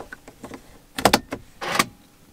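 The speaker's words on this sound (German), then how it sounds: "Ich verriegel jetzt das Auto." BMW E90 series car being locked, with soft clicks followed by sharp lock clunks and a short whirring burst as the power windows close, close up and alone.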